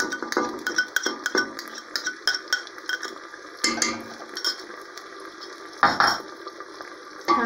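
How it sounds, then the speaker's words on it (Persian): A spoon stirs an Afghan bean and chickpea stew in a metal pot, making a quick series of close scraping clinks and taps against the sides, unevenly spaced, with no talking. "کم مکسش میکنیم."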